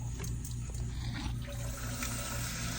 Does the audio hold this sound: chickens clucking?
no